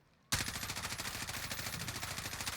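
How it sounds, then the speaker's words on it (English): Automatic rifle in a video game emptying the last thirty rounds of an extended 50-round magazine in one continuous burst, loud, rapid and steady from a sudden start to the end. "I'm gonna shoot up here"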